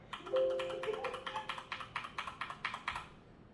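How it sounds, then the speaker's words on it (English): Steady typing on a quiet Razer BlackWidow V3 linear silent mechanical keyboard, soft muted keystrokes in a quick, even rhythm, close up with no talking. "It's a mechanical keyboard."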